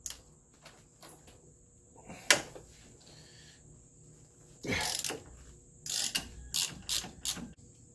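Ratchet clicking as the 13/16 caliper bracket bolts come off a Dodge Caravan, quick bursts of pawl ticks in short runs, close and fairly loud, with no talking.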